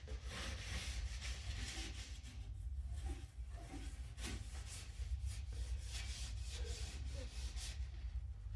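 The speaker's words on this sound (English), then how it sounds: "I'll rub it in a bit so it doesn't all spin off." A homemade beeswax and mineral oil polish is rubbed into a wooden platter spinning on a lathe. A soft, continuous friction hiss runs over a low steady motor hum, fairly quiet throughout.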